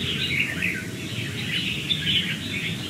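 A Lao red-whiskered bulbul sings in repeated clear, warbling phrases, close and moderately loud, with a steady low background hum underneath.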